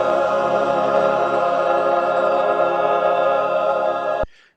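A digital music mix run through the Airwindows Console4 plugin plays as a sustained, dense tonal wash at steady loudness, then cuts off abruptly near the end.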